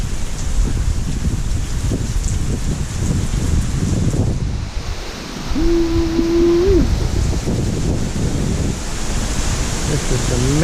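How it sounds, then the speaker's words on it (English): Hurricane Ida's hurricane-force wind roars without a break, a dense broadband rush with no gaps, and a brief steady tone rises over it partway through. "This is a mega wind here"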